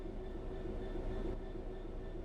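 Train rumble in the video game Train Sim World 3, a quiet steady low drone with faint tonal hums and no pauses.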